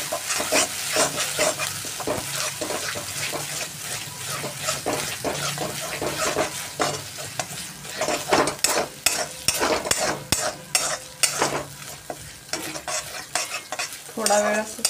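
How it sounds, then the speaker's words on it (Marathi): Onion and cashew paste sizzling in hot oil while a spoon stirs and scrapes the pan in quick repeated strokes, growing busier and louder toward the end, close up with no talk. "कांदा आणि काजूची पेस्ट घालून घेणार आहे। कांदा आणि काजूची पेस्ट मी याच्यामध्ये घातलेली आहे। आपण आता तेलामध्ये छान अशी परतवून घेणार आहे आपण।"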